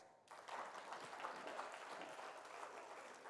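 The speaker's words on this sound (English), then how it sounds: "if you can clap for those who receive the awards" Audience applauding award recipients at a leadership awards ceremony: clapping swells in after a brief quiet start and continues as an even, fairly quiet wash of many hands.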